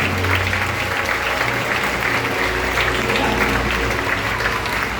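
A church worship crowd claps steadily and loudly for several seconds, a dense wash of applause with a low hum underneath.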